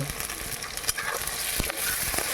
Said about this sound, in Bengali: এগুলোকে একসঙ্গে করে ভালো করে লাল লাল করে ভেজে নেব